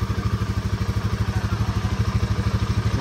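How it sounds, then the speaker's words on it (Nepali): A new Royal Enfield 452 cc motorcycle runs just after a cold start, its engine beating in a fast, even, close thump at slightly raised idle. "अब हल्का कोल्ड स्टार्ट हान्दिउँ है आरपिएम थोरै बढोस्"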